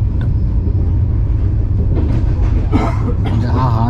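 Continuous low rumble and rattle of a moving train in the Konkan region, heard from inside a carriage, with a voice talking over the noise in the later part.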